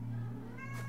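A cat meows once in the video game Hardland, a short, clear call near the end of the second over a steady low electronic hum.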